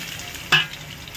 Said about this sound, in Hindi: यहाँ पे वही फ्राई पैन में जिसमें हमने कबाब सीख डाले थे, ये इसमें ही ये प्याज डाल दूंगी